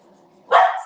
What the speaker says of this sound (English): Apologies, that's our dog.